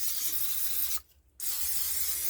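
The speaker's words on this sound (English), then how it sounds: "Now I'm going to be using an olive oil spray." Olive oil spray hisses steadily onto breaded fish in two close, continuous bursts separated by a brief gap, with no talking.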